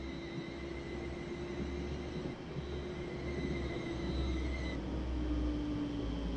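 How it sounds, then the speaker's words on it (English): Class 350 electric multiple unit rolling into a station platform in the Train Simulator 2017 game: a steady low rumble of running gear with faint whining tones above, gradually swelling as it draws in, with no talk. "Oh look, the train now coming backwards to platform whatever."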